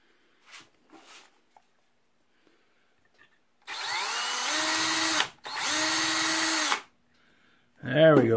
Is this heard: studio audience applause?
no